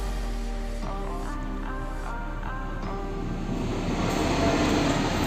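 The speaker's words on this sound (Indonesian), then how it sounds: "Bentar, ada kereta." A train rumbles past, a low steady roar joined by a tonal horn-like call that sounds several times, then broadening into louder, rushing wheel noise toward the end.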